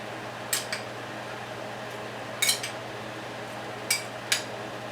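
Kale beet salad dressed with honey balsamic vinaigrette is tossed in a bowl, producing a few brief clinks and scrapes of utensils against the bowl over a faint steady hum.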